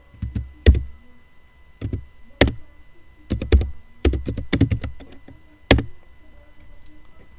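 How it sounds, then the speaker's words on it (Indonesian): Cisco configuration commands are typed on a computer keyboard. Bursts of clacking keystrokes, close and fairly loud, are separated by short pauses, with no speech. "kita ketik perintah dasar Cisco-nya terlebih dahulu"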